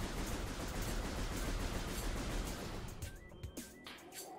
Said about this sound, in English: in the original game, you'd have like heat coming off the arm cannon when you'd rapid fire